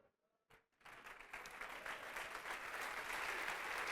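A church congregation bursts into applause, the clapping starting after a brief pause and swelling into a dense, steady roar that grows louder toward the end.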